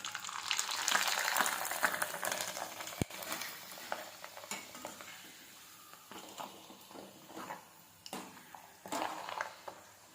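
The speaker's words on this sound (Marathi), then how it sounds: "आता हे उडदाचं पापड लगेच तळत ते पटकन काढून घ्यायचं" Urad dal papad frying in hot oil, a soft crackling sizzle with irregular spatters and pops. It stays close and fairly quiet, and no one speaks.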